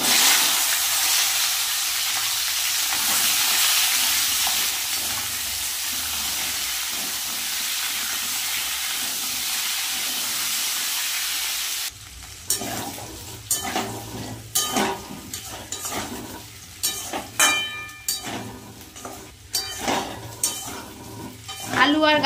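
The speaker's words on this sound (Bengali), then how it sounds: "আমি গাঠি কচু আর আলুটা ভেজে নেব।" Taro and potatoes go into hot oil in a wok, a loud continuous hiss of frying at first, then a quieter stretch full of sharp clinks and scrapes of a utensil stirring against the metal pan.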